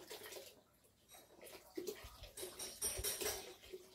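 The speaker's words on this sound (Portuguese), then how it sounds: "E agora eu boto mais um pouquinho de água." Water poured into a pot while making homemade soap from sugar, about two litres going in with splashing and clinking against the pot, fairly close and moderately loud.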